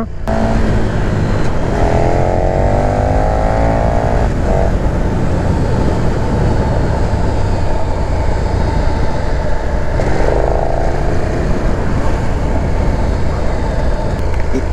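A 2020 KTM 1290 Super Duke R test bike with an aftermarket exhaust roars loudly and continuously while riding, its engine note rising in two clear acceleration sweeps over heavy wind rush.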